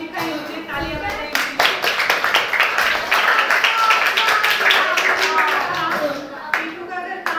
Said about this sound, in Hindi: मुझे तालियां बजाइए